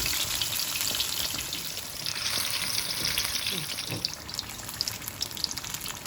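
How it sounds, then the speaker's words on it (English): Batter-coated masala fish fries gently in oil over low heat, giving a continuous dense sizzle and crackle with a few faint clinks. It is steady and close, with no voices. "Make sure you cook it on a low heat so the fish is cooked all the way through and the batter is nicely cooked and crispy."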